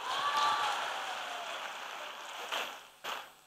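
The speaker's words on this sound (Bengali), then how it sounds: "আমাদের ক্ষোভের জন্য একটা জোরে হাততালি দিই।" Rally audience at a Dr Yunus address clapping together, a thick wash of handclaps that gradually thins, with a couple of final louder claps before it dies away.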